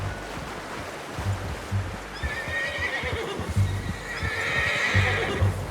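A horse in Red Dead Redemption 2 gives a long whinny over steady clip-clopping hooves, with flowing water in the background and no talking.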